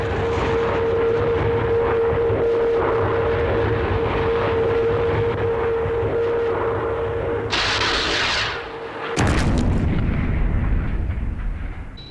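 Gunfire and explosions strike a target aircraft in an interception attack, heard as a dense, loud roar of blasts with a steady tone beneath, then a sharp burst and a renewed heavy rumble near the end.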